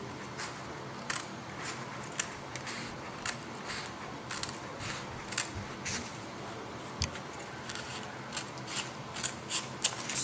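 Scissors cut through paper for a Diwali and Christmas paper lantern in a string of short, crisp snips with brief pauses between, close and fairly soft, with no one talking.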